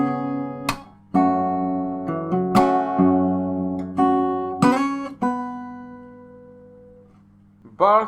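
Acoustic guitar playing bars 34 and 35 of a fingerstyle arrangement of a song from Naruto Shippuden, with chords, slaps and melody notes ringing close and bright, then a pause before a final strum.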